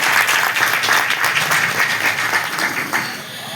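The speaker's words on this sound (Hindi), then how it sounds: "एक बार मैं चाहूँगी अपने भाई के लिए जोरदार तालियां बजाएं।" Loud, sustained applause from an audience at a women's rights conference rally in Hapur district, many hands clapping densely and steadily throughout before easing slightly near the end.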